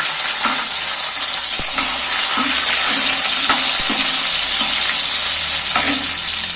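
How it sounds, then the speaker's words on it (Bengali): Ginger pieces and chopped tomatoes sizzle and fry steadily in a pan, with a spoon scraping and stirring through the hiss at a close, fairly loud level and no talking. "এটাকে আমি একটু টমেটোটাকে ভেজে নেব"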